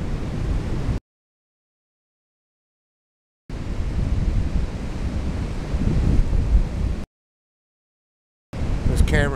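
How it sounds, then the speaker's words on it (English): Shallow water flowing past a person standing in it on an ocean beach, a steady rushing wash mixed with wind buffeting, heard in bursts separated by silent gaps. "Water flowing by. Reminds me I'm standing in it."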